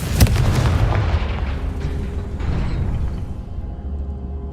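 Confringo explosive spell from Hogwarts Legacy: a sharp blast near the start followed by a rumbling, crackling burst that fades over several seconds, with no talking.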